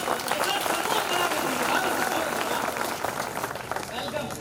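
An audience at a Hindi poetry event breaks into dense, sustained clapping and applause, loud and steady throughout, with a voice speaking over it.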